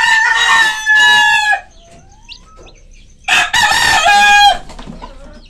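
A brooding hen and other backyard chickens of a native tinola line clucking while a rooster crows loudly twice, close by, with a quiet pause between the crows and faint bird chirps in the gap.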